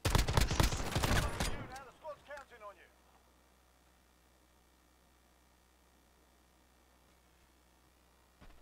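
Rapid video-game gunfire bursts loud and close at the start, a few scattered shots trailing off over the next second or two, then near silence with faint background hum until a small noise at the very end.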